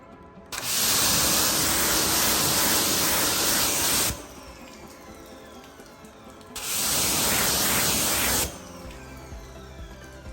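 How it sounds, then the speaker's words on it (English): Two long bursts of ceramic coating spray hissing loudly and close onto a Jeep Wrangler Willys, separated by a pause of quiet background. "just watch while I spray this"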